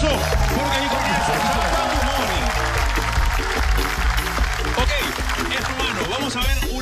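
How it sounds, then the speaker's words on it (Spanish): Loud, sustained applause from a TV studio audience on the Peruvian reality competition show 'HH', a dense continuous wash of clapping and crowd noise filling the whole stretch. "el público, el mejor y más fuerte aplauso"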